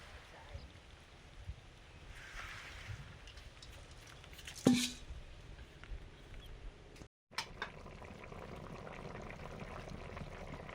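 A spicy curry with green chilies bubbles in a pot as a steady, close, hissing simmer, broken once by a short knock near the middle.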